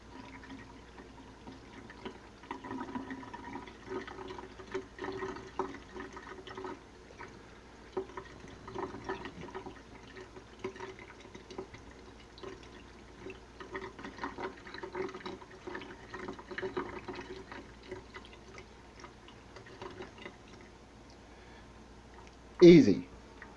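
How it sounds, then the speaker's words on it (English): A container is filled with filtered water from a tap, with a steady, soft stream running under ongoing talk, followed by a short louder splash near the end. "something like this can be just filled up with water"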